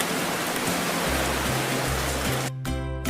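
Steady rain pours as a dense, even hiss throughout, loud and continuous, with a low hum underneath and a brief dip near the end before the downpour resumes.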